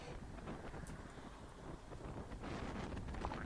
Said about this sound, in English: You can hear it's quite a windy day out there